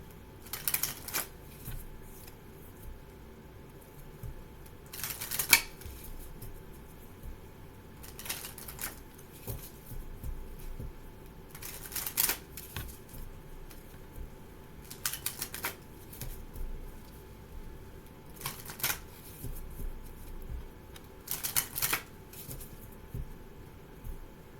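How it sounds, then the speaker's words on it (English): Tarot cards are shuffled in repeated bursts, about seven brisk riffling sweeps spaced a few seconds apart, close and fairly quiet against a soft background. "And then I'm going to shuffle this one."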